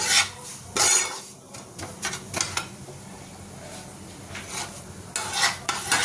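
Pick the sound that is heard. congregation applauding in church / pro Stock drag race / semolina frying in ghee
semolina frying in ghee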